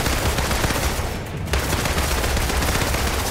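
Dense, continuous rapid gunfire from the video game Marvel's Avengers, loud and close, with a brief dip in the middle before the shooting resumes.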